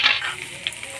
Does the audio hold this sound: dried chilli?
yes